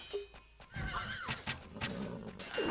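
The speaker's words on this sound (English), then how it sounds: "He should also be getting rid of the horses." Horses neigh and whinny inside a medieval strategy video game, with rising and falling whinnies over a busy bed of clip-clopping hooves and battle noise, loud and close throughout, no talking.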